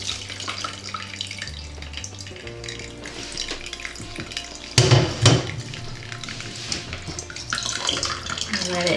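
Elderberry syrup, thick with strained-out berries and spices, is poured through a strainer, giving a continuous liquid trickle and splash with a sharper gush midway.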